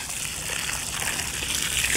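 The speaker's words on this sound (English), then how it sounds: "watering it in, not putting too much water in it because we don't want to collapse it." Water poured onto sand filling a void at a grave site, a steady close splashing and sloshing with a soft trickle running throughout, fairly loud and without talk.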